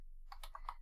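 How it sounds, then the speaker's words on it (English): A handful of keystrokes on a computer keyboard: four quick, quiet clicks close by within under a second, with nothing else heard. "I'll still try typing it."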